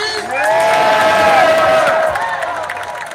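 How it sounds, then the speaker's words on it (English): Crowd at a Juneteenth reparations rally in Washington, D.C. swells into loud cheering, shouts and clapping that peak mid-clip and then taper off. "Give yourselves a round of applause, DC."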